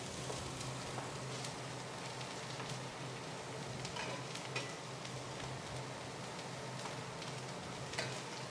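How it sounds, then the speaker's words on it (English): Plain and green cauliflower stir frying in a pan, giving off a steady, dense sizzle and crackle like light rain that holds at an even level from start to finish, with no voices. "Give them a little time to stir fry."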